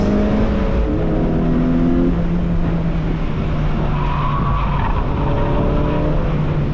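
A Mazda Miata spins out, its tires skidding and squealing over a loud, continuous engine drone that shifts pitch as the car slides.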